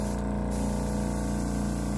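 A Mastercraft airbrush fitted with an added pressure regulator sprays at low pressure, a steady even hiss of air with no pauses, close and fairly quiet.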